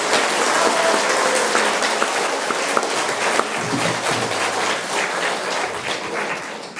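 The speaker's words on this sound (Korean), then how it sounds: "다시 한번 오스록 프란치스코 형제님께 큰 박수 부탁드립니다." Big round of applause at a Franciscan academic conference, a loud sustained crowd clapping in a hall that keeps going evenly for several seconds, tapering slightly at the end.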